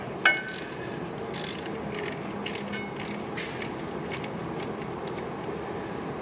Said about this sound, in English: We're gonna grab our 9/16 socket, slink it up in there, and loosen this bolt.